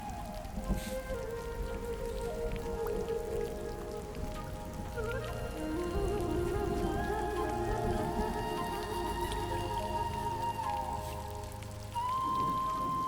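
Continuous rain patters on surfaces at a steady, moderate level, with tonal hums and background music-like tones woven through it.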